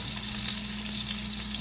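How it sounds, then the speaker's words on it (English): Onion sautéing in a pan for Panamanian-style arroz con pollo gives off a steady, close sizzle with an even hiss throughout the short moment, and no one talks. "We're going to saute this together."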